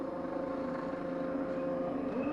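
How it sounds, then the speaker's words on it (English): A CART race car engine at the 2001 Michigan 500 revs in the pit lane, a steady droning tone that climbs in pitch near the end, heard at moderate distance with no voices. "Revs up right at the last moment"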